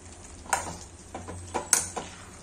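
Cauliflower cooks with tomato in a pan. A spoon clinks and scrapes against the metal several times at an uneven pace over a faint background of frying.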